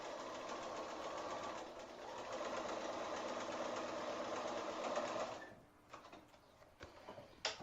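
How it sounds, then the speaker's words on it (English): A sewing machine stitches a seam on a scrappy floating four-patch quilt block, whirring steadily and close for about five seconds before stopping, followed by a few light clicks and taps of fabric handling. "take that to the machine and do that seam"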